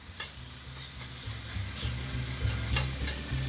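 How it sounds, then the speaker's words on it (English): Ground beef for a chopped cheese sandwich sizzles steadily in a hot pan while being chopped up, with repeated scraping and tapping strokes breaking through the constant frying hiss. "that's what we're doing is chopping our meat down"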